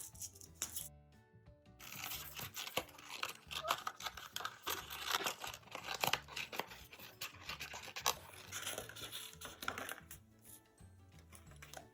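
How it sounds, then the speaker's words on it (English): Scissors cutting out paper shapes for a paper cat craft, with irregular snips, rustling and crinkling of paper, close and fairly quiet, no speech. "Cut them out with your scissors."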